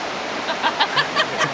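River water flowing where a man bathes, a steady rushing wash close by with a few rhythmic splashing pulses on top.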